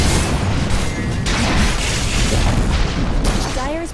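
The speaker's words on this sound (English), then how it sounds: "Dire's bottom tower has fallen." A tower crumbling in Dota 2: a heavy, continuous rumbling crash with booming impacts fills the whole stretch, loud and close, with a short tonal chirp near the end.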